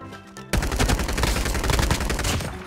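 Sniper rifle fire in the mobile shooter game Call of Duty Mobile: after a quiet half second, a loud, dense run of sharp, close shots and impacts continues to the end.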